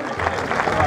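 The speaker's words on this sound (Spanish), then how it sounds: "nosotros le vamos a devolver con un fuerte aplauso a estos dos pedazos de toreros a cuerpo limpio" Audience applause at a recortadores and forcados bullfighting show in Coria, a short dense burst of clapping from the crowd, loud and continuous for under a second with some voices mixed in.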